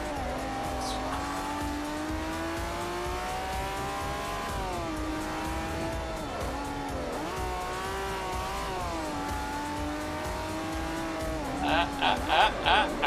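A race car in the Forza 4 video game drives through turns, its engine droning loud and steady with pitch rising and falling as it brakes and accelerates, tires squealing briefly near the end.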